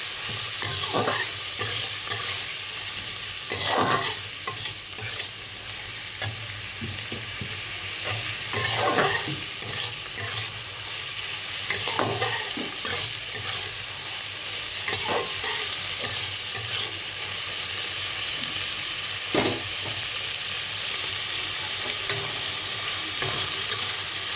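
Taro and prawns fry together in a pan on a gas stove, a constant bright sizzle punctuated by repeated rhythmic scraping strokes of stirring, close and loud with no voices.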